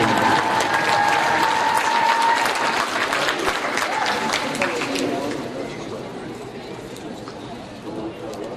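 A gym crowd applauds graduating seniors on a women's basketball senior day, with a steady clapping swell that slowly thins and fades while faint voices carry underneath.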